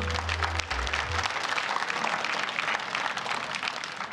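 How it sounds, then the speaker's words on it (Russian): Arena crowd applauding a boxer after a technical knockout, dense sustained clapping throughout, with a brief low hum at the start. "прежде всего, аплодисменты бойца"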